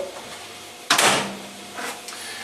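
A microwave oven door is shut with a phone inside, a single close, loud thud or clunk standing out against quiet room noise, followed by faint small handling sounds.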